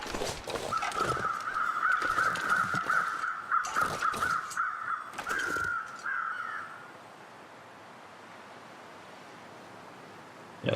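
Crows caw repeatedly in The Long Dark, a rapid series of harsh calls over faint wind and rustling for several seconds, then quiet ambient noise remains.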